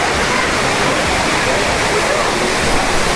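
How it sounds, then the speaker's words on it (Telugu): Water pours down at Japali Hanuman temple in Tirumala, a dense, steady rushing roar that stays loud and unbroken throughout. "అటు వెళ్ళిపోతున్నాయి వాటర్ అయితే పడి"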